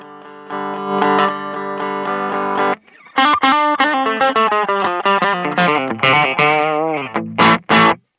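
An electric guitar through a Fractal FM9 amp modeler, with a heavily processed, chorus-tinged distorted tone, plays a sustained chord, then a run of quick picked notes and short stabs.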